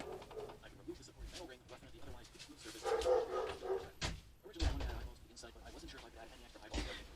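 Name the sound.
dog barking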